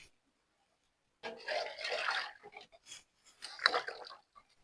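Hands being washed under running water, heard as two close bursts of splashing and rubbing separated by short pauses, with no speech.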